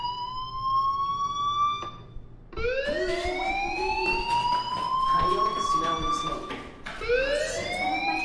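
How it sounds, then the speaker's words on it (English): A school fire alarm in the Life is Strange video game wails as rising and falling siren sweeps, cutting out briefly before restarting loudly and repeating, with faint voice-like sound underneath. "Hey, do you hear that fire alarm? That means you should be outside."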